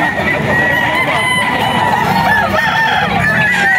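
Roosters crow and hens cluck at close range among a flock of chickens, a loud, continuous layer of overlapping calls with repeated drawn-out crows rising above dense background clucking.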